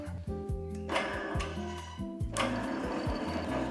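A newly acquired drill press fired up for the first time, running with a steady mechanical hum and a repeating rhythmic clatter, close by in a workshop, no talking.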